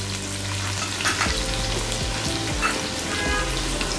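Chopped onion and garlic with salt frying in hot oil for papaya bhorta, a steady close sizzle with crackling pops and occasional stirring scrapes.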